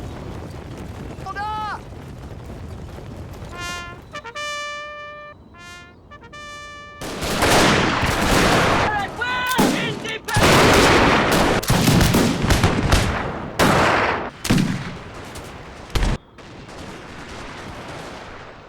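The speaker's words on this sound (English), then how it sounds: "They dismounted and advanced in skirmish order, returning fire." Rifle volleys crack in a Total War cinematic battle between Zulus and British troops, loud and dense bursts of gunfire rolling over shouts and bleat-like cries, with a narrating voice over the din.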